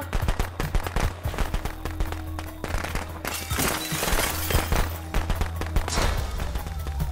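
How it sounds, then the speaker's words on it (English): Fireworks in Friday the 13th: The Game burst in a rapid string of sharp cracks and pops over several seconds, loud and irregular, with a low game hum underneath. "Ah, fireworks."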